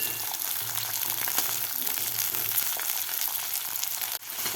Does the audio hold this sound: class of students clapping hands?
no